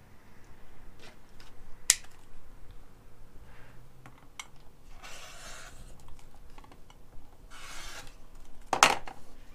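Fabric being trimmed around a Bloc-Loc ruler with a rotary cutter, intermittent soft rasping strokes and scattered sharp clicks, close and quiet.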